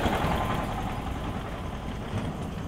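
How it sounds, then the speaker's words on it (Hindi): A heavy tractor engine rumbles steadily nearby as it passes on a farm, a continuous low droning with no talking. "जब ये बीच में ट्रैक्टर आए तो रुक जाना"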